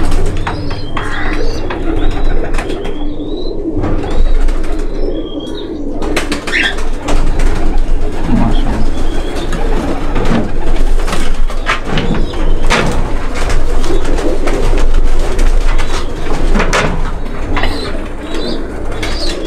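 Red-eyed imported pigeons coo in a loft, low repeated throaty calls with occasional wing flaps and sharp chirps from other birds, fairly loud and close with a steady busy background.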